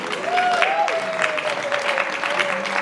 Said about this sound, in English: Let's give the panel a round of applause, please.